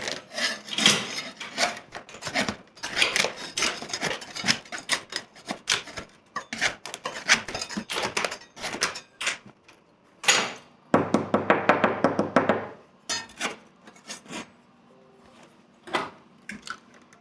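A knife scrapes roughly against a plaster wall, a run of quick rasping strokes, close up, with a denser grinding stretch partway through.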